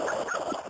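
A barking, yelping animal call, short and close, repeating in a few quick bursts over a background hum.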